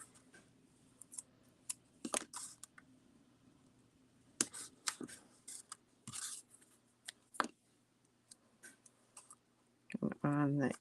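Tape pieces torn and pressed on near a glued paper fold, with short crisp rips and clicks scattered irregularly and loud up close, ending in a longer crinkly burst.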